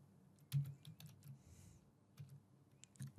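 Quiet keystrokes on a computer keyboard as card payment details are entered, a quick irregular run of soft clicks close to the microphone with short pauses between bursts.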